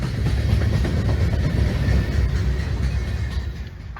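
A rare Herzog train rolls along the Baltimore Terminal subdivision in Maryland, a loud continuous rumble with steady rail noise and faint clatter, close by and unbroken, with no voices.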